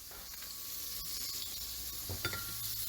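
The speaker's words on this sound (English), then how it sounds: "I'm going to put a little butter on the pan." Butter sizzles in a frying pan with a soft, steady crackle, and a utensil gives a faint tap or two against the pan.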